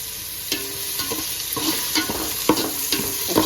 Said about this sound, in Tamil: உப்பு சேர்த்து நல்லா வதக்கி எடுக்கலாங்க